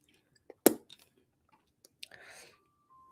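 Someone chewing cough drops at home, a few close crunchy bites and clicks with brief pauses between them, no talk over them.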